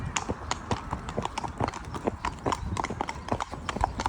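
Horses walking on a main road, hooves clip-clopping in a steady, fairly quick rhythm from several animals nearby, with faint background noise and little talk.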